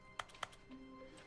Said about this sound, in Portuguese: Isso aqui também tem som de teclado.